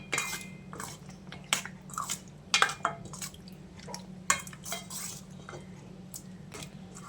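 Chicken lollipop marinade with soy sauce, tomato ketchup and chili sauce is mixed in a bowl, with quiet irregular spoon clinks and wet squelches, close and soft, with no talk.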